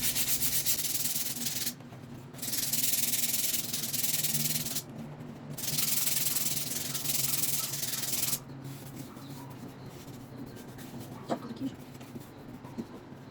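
MDF board is sanded by hand with sandpaper in three loud, rasping strokes, each lasting a couple of seconds with short pauses between. Softer rubbing follows as a voice speaks quietly.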